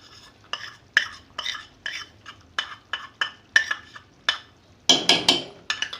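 A spoon stirs spices and yogurt into chicken korma in a metal pot, producing a steady rhythm of scraping clinks and wet swishes, close and fairly loud, growing busier near the end.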